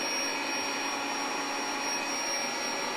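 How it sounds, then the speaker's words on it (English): The built-in pump of a SoundAsleep Dream Series air mattress runs as it inflates, giving a steady, moderately quiet whirring drone with a faint high whine. "So it's really not that loud too, whenever you actually start inflating it."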